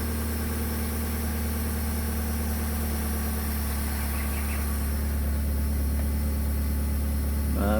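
A Perodua Kembara engine idles steadily at a constant speed, giving a smooth, even hum with a faint mechanical rattle that continues without pauses for several seconds, close and moderately loud.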